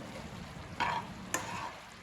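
Mutton liver being stirred with masala in a pan, with a soft sizzle under faint scraping; two short spoon scrapes stand out over a low, steady background.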